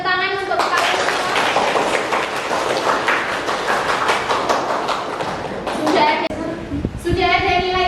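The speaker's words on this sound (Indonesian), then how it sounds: "Beri tepuk tangan untuk kalian semua." A classroom of high school students in a mathematics lesson applaud together in a dense, steady burst of clapping lasting several seconds, with voices heard before and after it.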